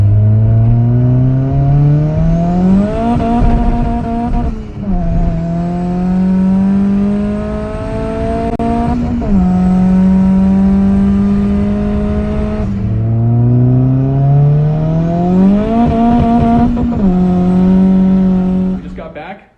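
A nearby turbocharged Honda car engine idles roughly, its pitch surging up and dropping back in repeated cycles.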